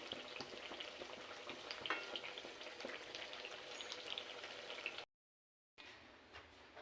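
Bengali palm fruit fritters frying in oil, a continuous bubbling sizzle with scattered pops and crackles, steady and close, broken by a short silent gap near the end.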